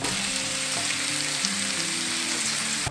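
Sliced garlic and paprika sizzle steadily as they are stir-fried for a meaty Valencian paella, a loud continuous fry with soft scraping of the stirring utensil throughout.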